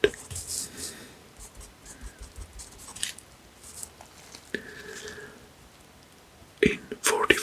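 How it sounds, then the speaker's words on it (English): Pen scratching across paper in short irregular strokes, close and soft, with a few brief rustles and a louder scrape near the end. "So let's write here only men"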